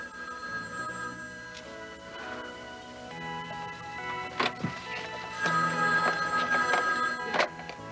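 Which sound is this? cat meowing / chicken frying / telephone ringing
telephone ringing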